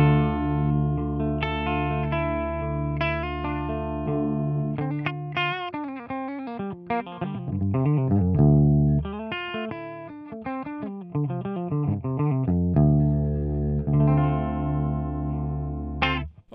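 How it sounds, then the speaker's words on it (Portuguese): Clean electric guitar played through a Q-Wave preamp with an impulse response rings out in chords and melodic runs, bright and sustained, with rhythmic strummed passages, heard alone with no talking. "E agora, aqui é o som da guitarra clean, passando pelo Q-Wave como pré."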